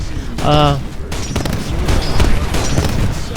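A 40mm cannon and rockets firing in the video game Titanfall, rapid booming bursts and a harsh fusillade, loud and close, with a voice talking over them.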